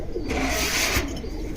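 Soft pigeon cooing close by, blended into a steady wash of background noise.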